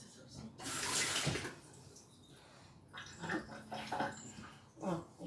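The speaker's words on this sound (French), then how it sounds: "Je vais rincer ça aussi." Tap water runs in brief, quiet bursts as food is rinsed at a kitchen sink during meal prep, with a short rush of flow followed by softer splashing and handling noises.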